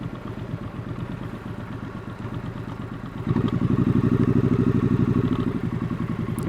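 Liquid-cooled scrambler motorcycle engine running steadily at low speed, a close, continuous mid-pitched throb that grows louder and rougher about halfway through as the revs rise, with no talk.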